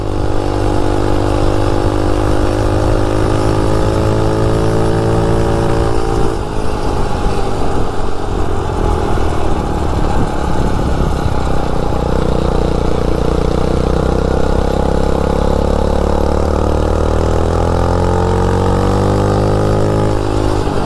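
Motovox mini bike fitted with a dirt bike engine, loud and close, running continuously with revs climbing and shifting through the gears, no voices.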